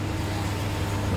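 Motor vehicle engine running while driving, a steady low rumble with broadband road noise throughout, fairly close and continuous with no speech.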